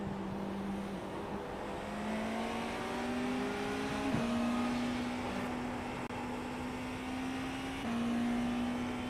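A race car engine in the iRacing sim drones continuously, its pitch climbing through gears with brief shift dips, loud and close with no talk.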